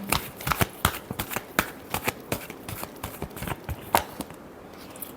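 Tarot cards being shuffled by hand for a Sagittarius love reading: a rapid, irregular run of crisp riffling slaps and flutters, close and fairly quiet, with no talking.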